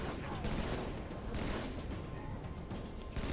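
Dense, continuous gunfire in the Halo video game, a loud rattling barrage that fills the whole stretch with no pauses.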